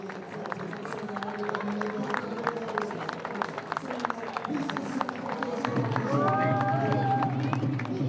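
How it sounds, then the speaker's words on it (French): A crowd claps and cheers at an orange festival in French Polynesia as orange carriers parade, with dense rhythmic clapping under band music and voices that swell toward the end. "au son de la Marseillaise et des applaudissements, les porteurs d'oranges défilent en héros"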